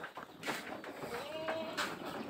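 Boer goats on a farm bleat a few times, wavering calls rising over a steady background with some clattering noises, fairly close, no clear speech.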